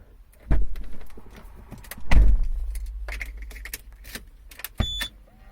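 A Citroen C4 Grand Picasso unlocks with several clunks and clicks: a sharp thud, a heavier mechanical clunk with a whirring motor, then further latches and a short electronic beep, all close.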